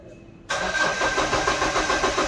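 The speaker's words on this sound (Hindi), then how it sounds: "ओके, मैं क्रैंक करता हूँ, सिम्टम कैसा है वो भी आप लोग का दिखाऊंगा" A Mahindra Bolero pickup with a starting problem cranks, its engine abruptly kicking in with a rough, loud, steady churning after a brief quiet moment, close by.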